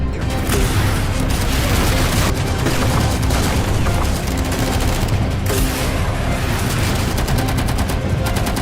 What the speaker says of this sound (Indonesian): Baku tembak pun kemudian terjadi secara terus-menerus.